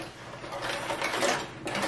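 A sewing machine winds thread onto its bobbin, making a steady whirring, mechanical hum with a faint gear-like rattle that stays constant and close throughout.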